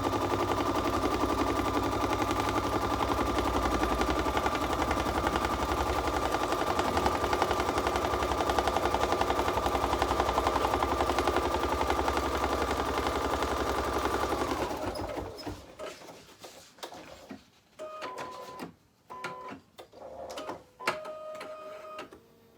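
An embroidery machine stitches a placement line for a Christmas stocking, running loud with a steady rapid needle clatter for about fifteen seconds, then stopping into quieter intermittent clicks and short whirring bursts.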